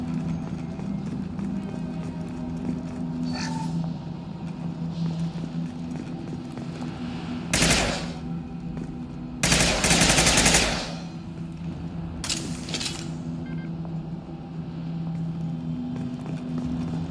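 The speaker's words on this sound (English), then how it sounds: "The Blue Suns and Vorcha shooting anything that moves" Mass Effect 2 gunfire as Blue Suns mercenaries and Vorcha shoot: several sharp bursts, the loudest a sustained volley near the middle, over a steady low ambient hum.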